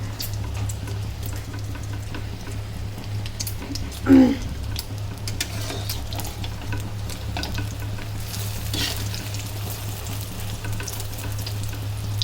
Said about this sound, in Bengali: এক এক করে সব ডিমগুলো ভেজে নিচ্ছি